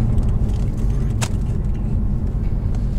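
A Toyota Aristo sedan with the 2JZ-GTE engine drives along, its steady low rumble and drone filling the cabin throughout with no pause.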